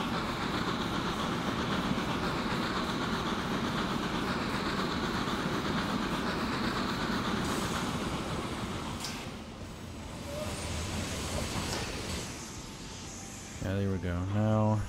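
Trains rolling through the Transport Fever 2 simulation game, a loud continuous rumble and clatter of wheels on track that eases briefly midway, then returns, with a tonal chime near the end.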